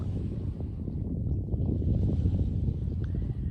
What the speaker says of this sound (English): The wind, the breeze is kissing my face.